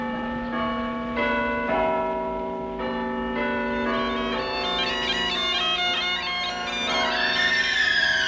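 A bell effect in a British radio comedy: a church-style bell rings with sustained, overlapping tolls, its resonant strikes layered for several seconds.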